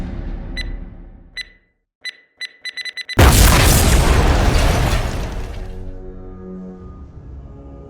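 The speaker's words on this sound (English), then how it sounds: "Kia stayed behind to put an explosive in the Master Arch because she was angry with Drakkon and thinks that by destroying the arch he won't be able to return." A loud explosion destroys the Master Arch in a Power Rangers scene, a sudden heavy boom after a few short clicks and beeps, followed by a long roaring rumble that slowly fades.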